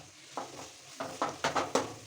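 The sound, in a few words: sautéing onions with chilli powder for fish biryani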